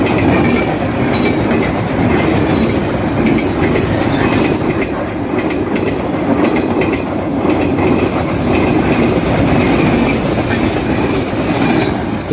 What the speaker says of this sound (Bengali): খুলনাগামী 788 ডাউন রূপসা এক্সপ্রেস এই মুহূর্তে ছুটে যাচ্ছে খুলনা অভিমুখে